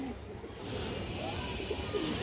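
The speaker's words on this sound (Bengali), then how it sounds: "এই যে দেখেন এগুলা পাল্লার কবুতর দর্শক" Racing pigeons in a loft give soft, low cooing, faint and blended into a steady background murmur.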